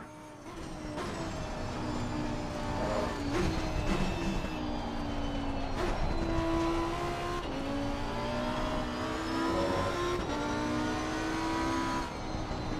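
Engine of a Porsche in a video game gymkhana event, a steady droning car motor with shifting revs running continuously at moderate loudness, with no talk over it.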